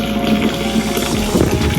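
Boiling water poured from a height into a brewing vessel for a Kölsch beer kit, a steady close rushing and splashing stream, foamy and continuous throughout.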